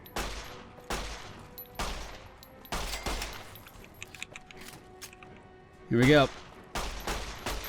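Nine-millimeter pistol fire in the Fallout video game: a sharp shot roughly every second, with game effects and a spoken line between them.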